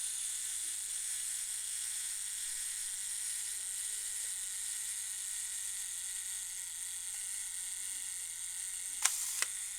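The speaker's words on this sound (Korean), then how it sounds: "다 찍혔는데도 타이머가 열심히 돌아가는 것까지 보실 수가 있죠" The mechanical clockwork self-timer of a Zorki-4 rangefinder film camera runs with a continuous, even buzzing whir up close, ending in a couple of sharp clicks.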